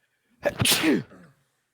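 One loud, close sneeze, a sharp burst trailing into a brief voiced tail, alone in a quiet room.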